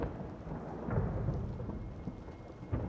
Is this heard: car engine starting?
no